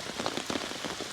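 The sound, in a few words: heavy rain pouring on tarp shelter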